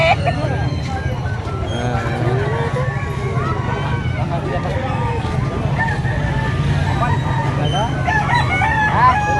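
Chickens cluck and a rooster crows repeatedly in a busy yard, with people talking nearby and a constant background hum.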